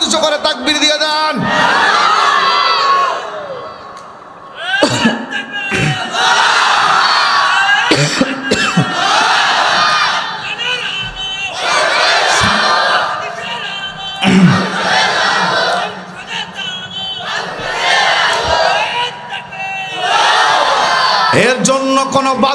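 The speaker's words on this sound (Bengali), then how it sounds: "কারা কারা হাত উঁচু করে তাকবীর দিয়ে দেন?" A large crowd at a Bengali religious sermon gathering chanting takbir, roaring together in repeated loud call-and-response bursts separated by short pauses, with a leader's voice shouting between them.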